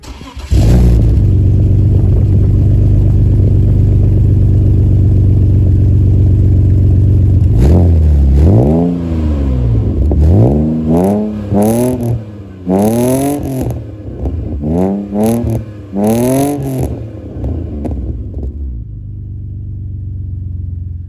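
A BMW E39 528i with the M52 straight-six and a cat-back exhaust cranks over cold and settles into a loud idle, then gets a run of sharp, rising-and-falling revs close by, with no talking.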